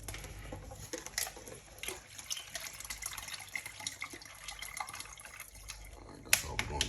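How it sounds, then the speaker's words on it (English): Tap water runs into a cooking pot for oxtails in a condo kitchen, a soft continuous splashing and trickling with small clinks, heard fairly faint and close throughout. "Water put in this pot for these oxtails."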